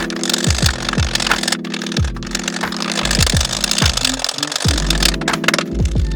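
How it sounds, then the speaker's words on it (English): Two hammers alternate on a seized strut part from an old BMW, a rapid series of loud, close metallic strikes in an uneven rhythm over a constant droning background, no talking. "I decided to grab a second hammer and just keep going back and forth until I wiggled it all the way out."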